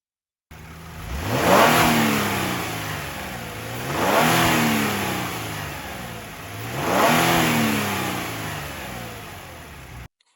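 Engine of a 2025 Genesis G70 Sport with Active Sound Design on a moderate setting, revved three times in an even rhythm, each rise swelling and falling back, close and steady with no voices.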